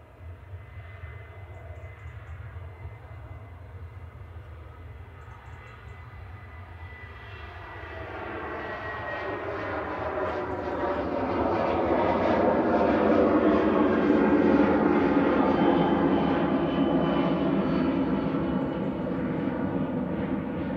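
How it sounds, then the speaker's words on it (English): A TUI Boeing 737-800 departs Manchester Airport for Reus, Spain, its jet roar swelling from a low rumble into a loud, rising engine blast that peaks midway and holds strong. "TUI 737-800 GT UKT departing next to Reus in Spain."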